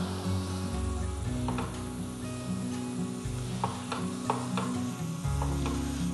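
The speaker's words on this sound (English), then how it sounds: "stir it gently" Shredded cheese melting in a pan for morel fondue, stirred gently: soft scraping strokes and a light sizzle with a few sharper clicks, over a steady tonal background.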